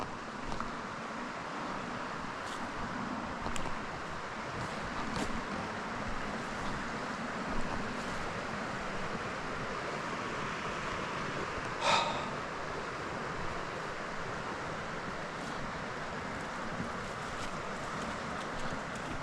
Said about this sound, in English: this whole river is a lot wider and running really, really fast